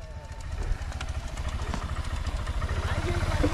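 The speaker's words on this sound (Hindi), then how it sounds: "अभी देख बाइक तो बंद कर ले" A motorcycle idles on a cricket ground with a close, rhythmic low engine putter, while voices talk over it.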